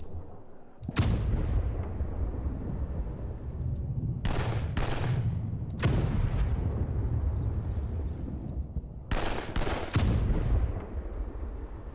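Artillery guns fire in the wargame Panzer Campaigns Donbas 43, with several loud booming blasts, some in quick pairs, each trailing off into a long low rumble that fills the gaps between shots.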